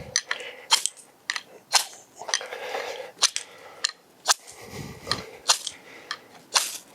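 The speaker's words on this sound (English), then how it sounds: "Let's try the ferro rod on that little lip there." A ferro rod scraped against the spine of a fixed-blade bushcraft knife, giving a string of sharp, bright rasping strikes at an irregular rhythm, close up and fairly quiet.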